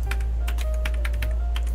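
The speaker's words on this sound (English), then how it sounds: "Who's typing the keyboard?" Computer keyboard keys are tapped in an irregular run of quick clicks, moderately close over a steady low hum, with no talk.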